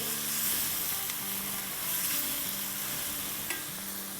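Food fries in a pan with a teaspoon of salt for chicken keema do pyaaza, giving a continuous close sizzle with a few faint utensil clinks.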